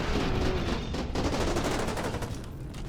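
Rapid bursts of enemy gunfire in the shooter game F.E.A.R., dense overlapping shots and booms forming a continuous loud barrage with no talk over it.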